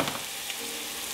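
Flour cooks in butter in a pan for a roux for a broccoli cauliflower soup, giving a short, even, close hiss of frying with no talk.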